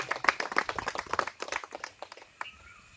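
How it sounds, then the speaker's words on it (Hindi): Applause from an audience at a public function honouring a joint agriculture director, a short burst of brisk scattered claps by a modest crowd that thins out and stops within three seconds. "आप लोग जोरदार ताली बजाकर हौसला अफजाई करें"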